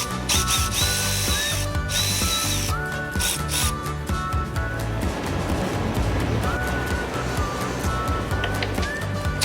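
Power tool drilling and ratcheting as bolts are removed on a Subaru WRX STI during a build, with repeated whirring bursts and clicking close by, steady and loud throughout.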